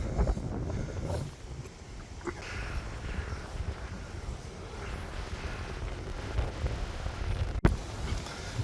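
Strong wind buffets a camera microphone out in the Cornish countryside, a continuous low rumble with gusty swells and a brief sharp knock near the end.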